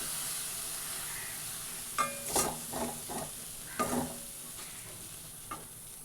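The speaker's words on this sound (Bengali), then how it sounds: "সামান্য জল দিয়ে আমি এটাকে খুব ভালো করে কষিয়ে নিয়েছি।" Food cooking down with a splash of water in a pan, a soft continuous sizzle and hiss under several distinct scraping strokes of a spatula that cluster in the middle, fairly quiet and with no voices.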